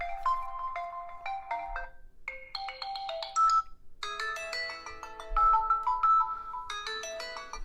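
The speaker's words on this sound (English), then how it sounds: "So those are the ringtones" Several melodic ringtones play in turn on an Infinix Zero 5G 2023 phone, bright electronic chimes and arpeggios changing every second or two, clear and close with no talking.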